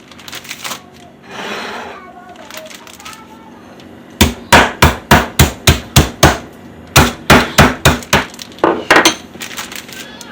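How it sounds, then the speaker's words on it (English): Meat mallet pounding steak for country fried steak: two bursts of rapid, loud, evenly spaced thuds, preceded by some handling noise and brief voice sounds. "now we're going to tenderize the meat"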